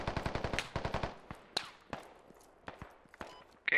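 Automatic rifle fire in the military shooter game Squad: a fast, loud burst of evenly spaced shots, then scattered single cracks and distant shots echoing over the next few seconds.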